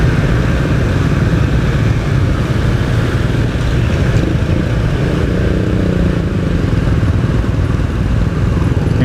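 Automatic scooter (matic) engine droning steadily while riding through congested traffic, a loud continuous low rumble with road and wind noise throughout and no talk.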